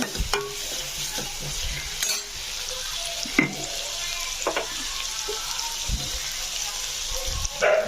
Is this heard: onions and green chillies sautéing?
yes